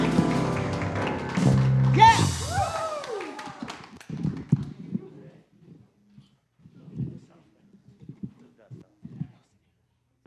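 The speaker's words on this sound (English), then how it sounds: "Come on, give a hand clap." A church congregation at a Unity of Walnut Creek service claps by hand in sparse, irregular bursts after a loud stretch of music fades, the claps fairly faint with pauses between them.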